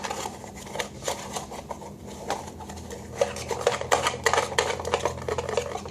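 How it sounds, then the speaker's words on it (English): A whisk scrapes and clinks rhythmically against a bowl while stirring cocoa powder for homemade hot cocoa, a close, steady clatter that quickens and grows busier toward the end. "take a whisk and just start whisking it around"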